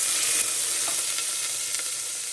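Onions and potatoes frying in hot oil give off a loud, even, bright sizzle that holds steady for a couple of seconds, with faint clicks of a utensil and no talking.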